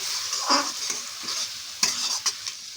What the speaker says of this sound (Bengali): দিয়ে এবার মশলাটাকে আমরা কষবো